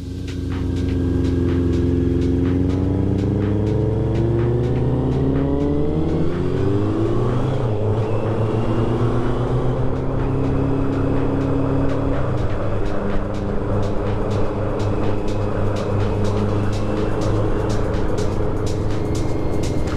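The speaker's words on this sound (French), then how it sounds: "Allez, une petite accel pour faire plaisir." A Kawasaki Z900 motorcycle on an autumn ride pulls hard, its engine note climbing through the gears with shifts in between. The exhaust roars loud and close, mixed with strong wind rush.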